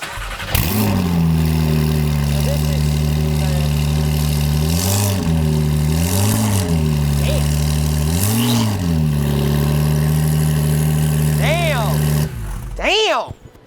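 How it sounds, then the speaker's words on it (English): Porsche 911 Turbo S in Miami Blue fires up and idles with a loud, close, steady rumble, swelling through a few blips of revs, with turbo whistle audible before the engine shuts off. "Do you think that's obnoxious to drive around in a Miami Blue Turbo S making that sound?"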